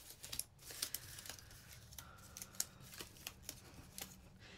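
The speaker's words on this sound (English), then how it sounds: "I'm gonna trim that off." Scissors snip away excess glue from a handmade paper craft, quiet repeated cuts with soft paper crinkling between them.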